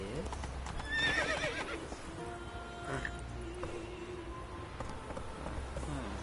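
A horse in a video game trots with steady clip-clop hooves and neighs loudly at moments, over a constant busy background of game ambience.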